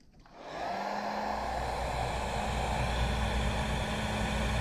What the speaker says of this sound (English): Now you should be able to use a heat gun.